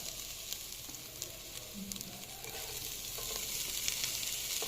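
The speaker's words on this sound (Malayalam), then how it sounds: "അതിനുശേഷം പച്ചമുളക് കൂടി ചേർത്ത് കൊടുക്കാം എന്നിട്ട് നല്ലപോലെ ഒന്ന് വരട്ടിയെടുക്കാം" Green chillies, added after curry leaves, sizzle and fry steadily in a pan for a Kerala-style spinach stir fry, a continuous crackling hiss with occasional stirring, no voices.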